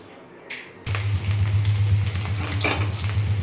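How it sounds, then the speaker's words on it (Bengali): Chopped onion and garam masala drop into hot oil in a wok and start frying, a sudden loud sizzle that stays steady and bubbling close up after a quieter start. "পেঁয়াজটা আমি এবার লাল লাল করে ভেজে নেব"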